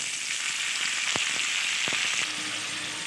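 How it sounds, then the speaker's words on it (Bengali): Cauliflower and potato pieces frying in a pan make a steady bright sizzle, with a few soft scrapes of stirring partway through and no talk. "এবার নেড়ে চেড়ে খুব ভালোভাবে ভেজে নেব"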